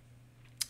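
A single short computer mouse click on a browse button lands near the end, crisp and close against quiet room tone.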